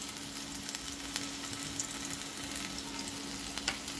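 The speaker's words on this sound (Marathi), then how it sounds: "तेल जरा गरम झालं की मी याच्यात टाकणार मसाले. अद्रक लसणाची पेस्ट, थोडीशी मिरची, हळद" Spices, ginger-garlic paste, chilli and turmeric sizzle and crackle in hot oil, a faint, steady frying hiss with small pops.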